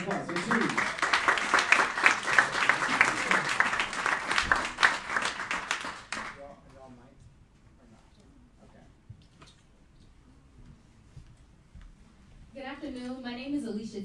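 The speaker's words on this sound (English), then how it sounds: "Give them a round of applause." An audience claps loudly for several seconds, then the applause fades and a person begins speaking in a quiet room.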